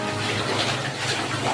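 Laundry being rinsed by hand in a basin of water, with close, continuous sloshing and splashing as cloth is worked and squeezed, fairly loud and without speech.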